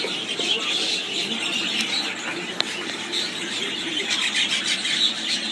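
Budgerigars, including a 2007 show-winning hen and Lutino birds, chirp and chatter steadily in a busy aviary, a continuous high twittering with no pauses.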